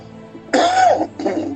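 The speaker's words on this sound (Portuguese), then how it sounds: "Vou tossir algumas vezes" A man with a sore throat clears it and coughs in two quick, close bursts during an online church service, with no talk in between.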